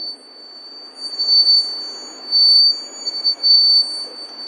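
A battery-powered buzzer inside a plastic bottle, swung around on a string, gives a steady high electronic tone that repeatedly swells and fades as it circles, loud and wavering with no talking.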